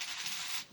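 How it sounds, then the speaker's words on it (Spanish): Several coins tossed and tumbling together in a continuous bright metallic jingle for under a second, fairly close, with no talk over it. "Como cuántas veces hay que tirar las monedas"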